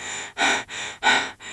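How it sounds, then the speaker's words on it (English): Heavy panting after physical exertion, two loud breathy bursts alternating with softer breaths in a steady rhythm, close and alone with no talk. "This is the sound of heavy breathing."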